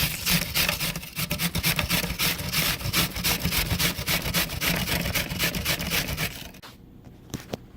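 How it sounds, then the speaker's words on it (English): A big kitchen grinder chews through a whole onion for spaghetti and meatballs, making a close, continuous, rhythmic rasping churn that stops abruptly near the end. "Now I'm gonna add the onion through a big grinder."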